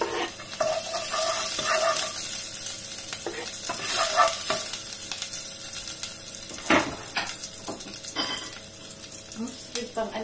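Shrimp drop into a pan with sliced sponge gourd and fry with a steady, close sizzle and bursts of stirring clatter throughout, while people speak faintly in the background.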